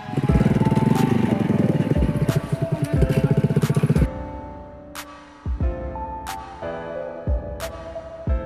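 A motorcycle driven through a bitter gourd field to clear weeds, its engine running loud and steady with a rough, mower-like drone, then dropping to an uneven idle broken by sharp bursts and revving pulses.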